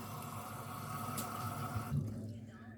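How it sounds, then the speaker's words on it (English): Tap water running into a container, a steady close flow that shifts in tone and drops off near the end. "All right, I'm gonna put water in here."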